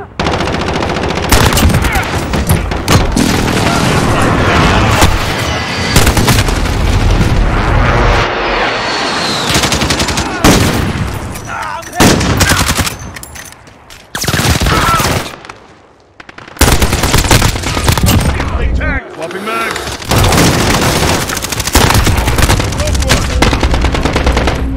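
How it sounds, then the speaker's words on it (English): Precision airstrike in the video game Call of Duty: Modern Warfare, roaring jets, dense machine-gun fire and heavy explosions, loud and continuous with a few abrupt cutouts, shouted voices faint underneath. "Enemy precision airstrike!"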